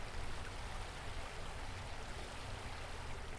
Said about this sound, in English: I got to this river, this stream, decided to take a little break, get some shots, some audio, stereo sound